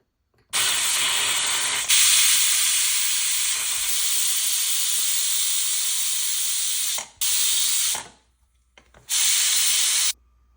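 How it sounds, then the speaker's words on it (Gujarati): A pressure cooker cooking daliya khichdi with moong dal lets off loud, sustained steam hissing in several long blasts separated by short pauses. "કુકર ઢોકી દઈશું અને 3 સીટી વગાડવી પડશે"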